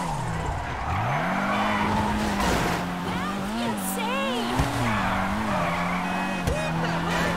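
In GTA 5, a Honda Civic Type R spins around with long sliding tire squeals rising and falling over engine drone, close and steady, while a voice talks at times.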